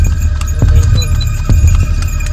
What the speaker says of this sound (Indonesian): ada suara kereta kuda.